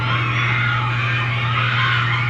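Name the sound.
concert crowd screaming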